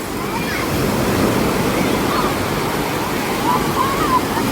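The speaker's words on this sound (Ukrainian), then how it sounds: "тут зразу ж така велика хвиля" Large waves surging in a water park wave pool, a continuous broad wash of churning water, loud and close, with people's voices and shouts mixed in.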